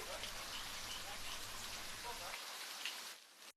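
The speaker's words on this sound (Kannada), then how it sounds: "ಭಾರಿ ಮಳೆ ಸುರಿತಾ ಇದ್ದು ಮಳೆಯಿಂದ ನೀರು ತುಂಬಿಕೊಂಡಿದೆ" Heavy monsoon rain pours down in Kodagu, Karnataka, flooding a shop beneath a flyover: a dense, steady roar of rainfall on surfaces that carries on loud throughout and cuts off abruptly at the very end.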